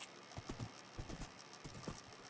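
Horse hooves clip-clopping in Minecraft, a quick uneven patter of hoofbeats, faint and steady, with no talk.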